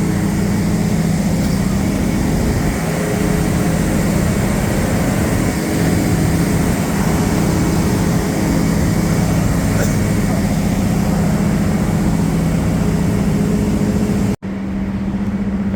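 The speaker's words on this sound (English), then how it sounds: "you can tell the power is out when you hear the loud generator" A loud generator runs steadily during a power outage in Mactan Newtown, giving a constant low engine drone that continues without a break until it cuts off abruptly near the end.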